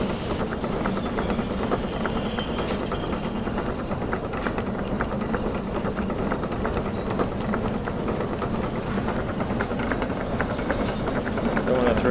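Diesel shunter locomotive in the Derail Valley VR train game rolling steadily, a continuous mid-level rumble with faint rail clatter throughout, and a voice speaking over it at times.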